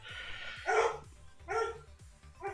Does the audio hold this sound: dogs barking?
yes